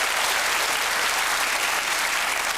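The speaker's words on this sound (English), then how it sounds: "You see, Boris, that's what clapping sounds like." Steady applause from a TV studio audience, dense and continuous clapping throughout with no pauses.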